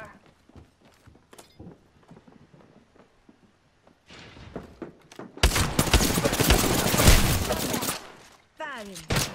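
Gunfire in the shooter game Apex Legends: scattered footsteps and clicks, then a loud sustained burst of rapid automatic fire close by, ending with a short mechanical reload sound.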